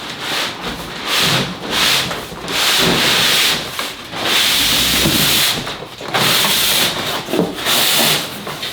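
A boxed Festool Kapex 120 miter saw sliding out of its cardboard packaging in long, loud, hissing scrapes, repeated in several separate pushes with short pauses between them.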